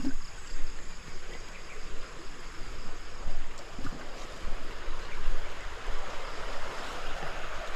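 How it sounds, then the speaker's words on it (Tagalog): Steady broadband hiss of rainfall, continuous and fairly even throughout, with no voices. "Yan o, may ulan."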